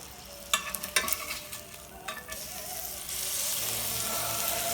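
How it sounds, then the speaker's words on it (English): Meat for an omelet frying and simmering in a pan: a steady close sizzle with a few scraping stir strokes early on, the hiss growing denser and louder toward the end. "Reduce the heat on your meat and let it simmer for a while."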